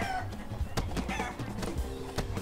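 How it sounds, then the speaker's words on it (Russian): Chickens in the video game Bad Guys at School cluck and squawk in quick, overlapping bursts, loud and busy, with thumping game noises mixed in. "Курицы накидываются на учеников!"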